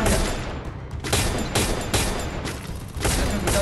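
Rapid bursts of gunfire from the Free Fire battle royale game during a guild war match, loud, dense and continuous, with repeated volleys overlapping throughout and no talk.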